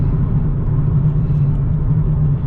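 A steady low rumble of tires on pavement fills the cabin of a moving 2015 Nissan 370Z coupe, constant and fairly loud with no talking.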